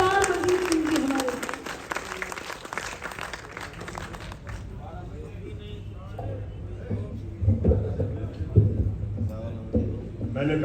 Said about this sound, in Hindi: जोरदार तालियां हो सरदार मंजीत सिंह जी हमारे।